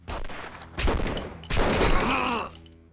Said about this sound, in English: He was firing at us while reloading.